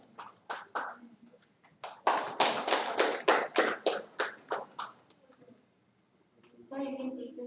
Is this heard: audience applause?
yes